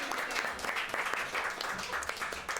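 A live audience applauds steadily for a few seconds, an even patter of clapping with a faint murmur underneath.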